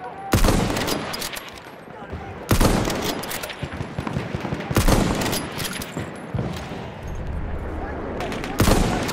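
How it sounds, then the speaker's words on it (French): Repeated bursts of machine gun fire in the video game Battlefield 1, Conquest mode on the Nivelle Nights map, loud and close, rattling in several long volleys with battle noise between. "J'ai une mitrailleuse en visuel."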